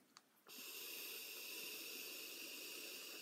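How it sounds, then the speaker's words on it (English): A quiet moment, then a steady, continuous hiss switches on and holds evenly, like a machine blowing vapor close by. "This is a smoke machine."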